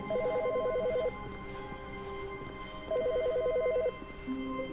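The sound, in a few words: phone ringing in video game The Stanley Parable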